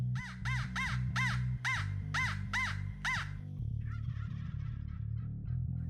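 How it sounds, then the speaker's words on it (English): Seven evenly spaced, harsh crow-call caws ring out loudly, then a wild turkey gobbles back in a rapid rattling burst, fainter and farther off, in an outdoor spring hunting setting. "we had a turkey gobble back to our crow call right away"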